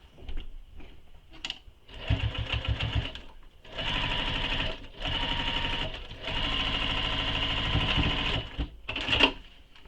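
A sewing machine basting a flap onto a quiver sling, running in several bursts of rapid, steady stitching separated by short pauses, close and loud.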